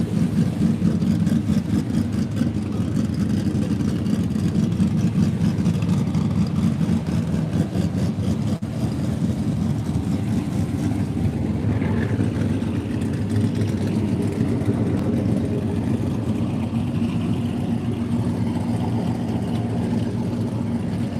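Several cars idle in the pits at a Tulsa street takeover racing event, a steady deep low-frequency engine rumble that holds loud and continuous throughout, with no talking over it.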